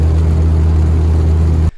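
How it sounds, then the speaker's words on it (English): A Dodge SRT-4 Neon engine with a leaking exhaust manifold runs at a loud, steady idle, a close low hum with a faint rapid ticking, before cutting off abruptly. "Come to find out, my exhaust manifold is leaking, or was."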